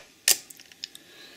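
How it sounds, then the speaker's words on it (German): A Sony FDR-AX53 camcorder switching off: one sharp mechanical click followed by a few faint small ticks, close and quiet. "Macht man die Kamera jetzt aus"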